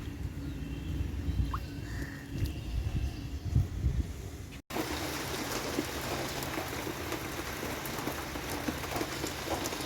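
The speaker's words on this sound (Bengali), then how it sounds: "আবারও বৃষ্টি পড়ছে।" Rain falls on a Kolkata rooftop laid with plastic sheeting, a soft patter at first under low background rumble, then a denser, steady wash of drops after a brief break.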